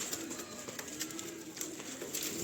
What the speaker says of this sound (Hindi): ये मेरे 1 नंबर फिरोजपुरी कबूतरों में से निकला हुआ कबूतर है